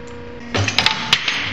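A 50-ton Piranha iron worker notches metal, giving a few sharp, loud mechanical clanks and knocks over a steady machine hum, close by with no talk.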